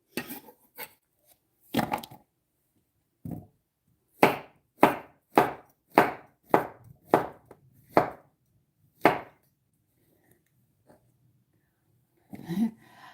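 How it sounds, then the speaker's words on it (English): Sharp knife strokes slice sandwich ingredients on a cutting board: a steady run of about ten crisp, close chops in even rhythm, with a few scattered cuts before and after and quiet gaps between. "So just slice them."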